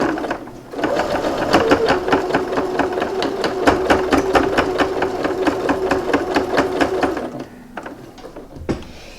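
A sewing machine runs steadily, stitching the closing seam of a custom handbag, a fast even chatter of needle strokes with a whining motor tone for about seven seconds before it stops, with no talk.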